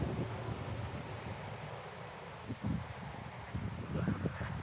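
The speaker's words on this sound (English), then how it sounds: "It's very windy out here today." Wind rumbles and buffets against the microphone in uneven gusts, a low, blustery roar throughout with no voices.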